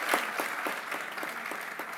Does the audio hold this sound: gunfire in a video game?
no